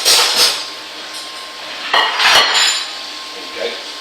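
Plate and fork clinking while beans on toast are served, with sharp ceramic and metal chinks rising over a faint steady hum.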